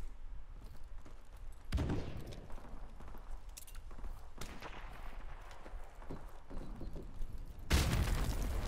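Airstrike explosions in Call of Duty 4: Modern Warfare Remastered team deathmatch on PS4: three heavy, booming blasts spaced a few seconds apart, each with a sharp onset and rumbling low tail, over continuous game noise with no talk.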